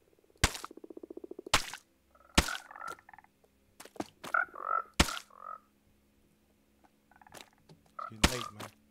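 Croaks from a Minecraft frog come in scattered rippling bursts between loud sharp thumps of blocks being placed or broken, close and clear with gaps of quiet.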